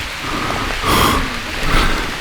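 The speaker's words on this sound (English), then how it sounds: "It's starting to rain on us." Rain beginning to fall in a canyon, a loud wash of steady rainfall with brief gusts of wind and no speech.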